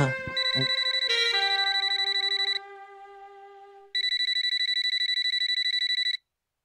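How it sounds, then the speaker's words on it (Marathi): A telephone ringtone sounds during a phone call in a Marathi TV serial scene. It plays a bright electronic tonal pattern that starts with a short melodic phrase and fades, then returns as a loud, steady burst of rapid pulsing ringing, with no talk. "मी ओम दादाच्या घरी फोन करतोय"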